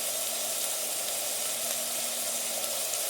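Ivy gourd, chana dal and onion fry in hot oil in a pan, giving a steady, close, continuous sizzle with no talking.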